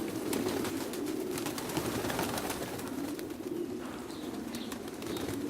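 Soft, low pigeon cooing repeats over a constant outdoor background, with occasional faint rustles and chirps.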